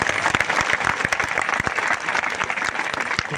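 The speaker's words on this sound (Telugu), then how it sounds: "మా అరుణ్ గురుస్వామికి ఒకసారి గట్టిగా చప్పట్లు కొట్టారు" An audience claps loudly for Arun Guruswamy at a devotional temple gathering, a full crowd of hands beating in a roughly shared rhythm with sharp accents, sustained and close throughout.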